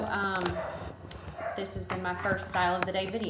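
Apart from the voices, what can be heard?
dogs barking in the background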